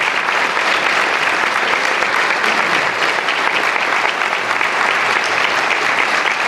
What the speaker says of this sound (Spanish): Un aplauso grandote para la agrupación Amigos del Folclore, 33 años de positiva trayectoria.